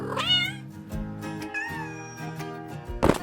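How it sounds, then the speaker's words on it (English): A tabby cat meows over a bed of soft background music, with several drawn-out, rising-and-falling cries and a brief louder sound near the end. "A tabby cat."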